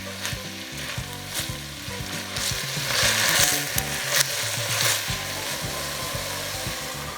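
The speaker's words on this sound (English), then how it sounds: "Now let's add the ground turkey plus a dash of salt. Break the ground turkey in smaller pieces." Ground turkey seasoned with salt sizzles steadily in a pot while a utensil scrapes and breaks up the meat, giving continuous close frying hiss with rhythmic stirring rubs and knocks.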